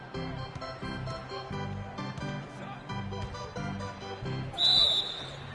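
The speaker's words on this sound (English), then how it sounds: "And the officials whistle a foul on the shot." In the NBA 2K16 basketball video game, a referee blows one short, sharp whistle for a shooting foul near the end, over game music and arena sounds.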